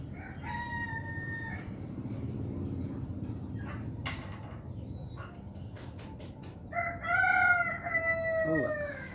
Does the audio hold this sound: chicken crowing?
yes